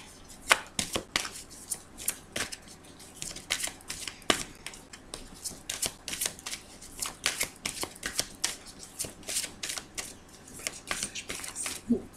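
An oracle card deck is cut and shuffled by hand, giving a quick run of crisp riffling card slaps and flutters in an uneven rhythm, close and fairly quiet, with no voices over it.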